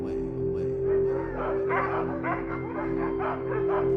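A pack of dogs barks and yips in rapid, uneven bursts at mid distance over a steady low droning background, with no talking.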